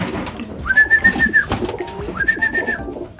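Pigeons coo close by, two drawn-out rising and falling calls against a quiet background with faint rustling.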